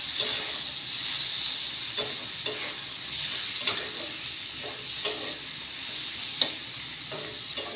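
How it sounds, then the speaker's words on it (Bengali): Teasel gourd and bitter gourd fry with onions in fish oil, giving a loud, constant hissing sizzle close by, broken by soft, irregular scrapes of stirring and no talk. "মাছের তেল দিয়ে ভাজা হয়ে যাবে এই কাঁকরোল আর উচ্ছেটা"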